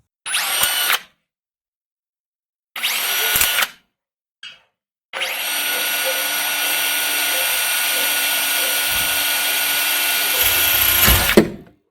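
Blackzero smart cordless electric drill boring through light metal: two short whirring bursts and a brief tap, then a long loud sustained high-pitched drilling whine that strains and ends abruptly.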